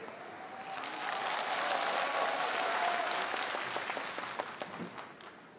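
Applause from a seminar audience celebrating the six pillars of Tiens, a steady burst of clapping that swells quickly, holds for several seconds, then thins out with scattered claps near the end.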